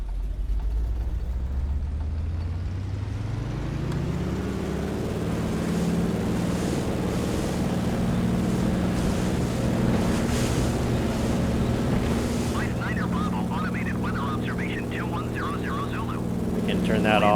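A DHC-2 Beaver's radial piston engine at full throttle in Microsoft Flight Simulator 2020, a loud steady drone that rises in pitch as it spools up, with water and wind noise and talk over it.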